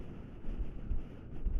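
Wind buffets a microphone outdoors on a dark hill at night, a low, rough, gusty rumble that swells and dips for a couple of seconds with no other sounds.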